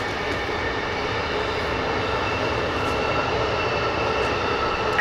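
An Amtrak passenger train rolls past at an outdoor range, a steady broadband rumble and rush that holds fairly loud and even throughout, with no voices over it.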